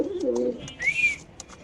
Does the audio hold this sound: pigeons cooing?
yes